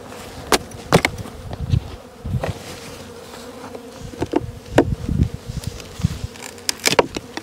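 Honey bees robbing a dead hive full of honey in an apiary make a loud, close, continuous buzzing drone, with individual bees zipping past the microphone in sharp, repeated swells.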